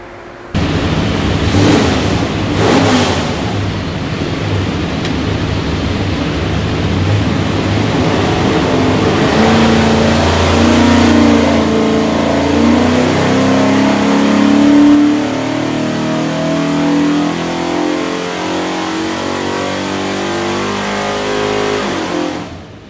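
A 347 Ford stroker V8 for a '67 Mustang revving hard on a dyno, a loud sustained pull climbing steadily in pitch over about twenty seconds after a brief startup burst.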